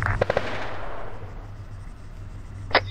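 Gunshots in the military game Arma 3: a quick cluster of three or four sharp shots at the start, fading into a low rumble, followed by one more isolated crack near the end.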